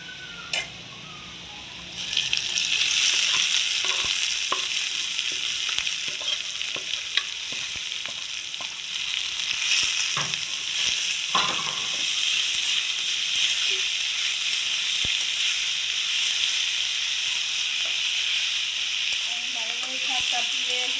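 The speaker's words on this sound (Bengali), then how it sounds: "শাকটা দিয়ে বাগার দিয়ে দিলাম" Boiled greens tipped into hot oil with fried onion and garlic burst into a loud, broad sizzle that settles into a steady hiss, with faint scraping from stirring and a brief voice near the end.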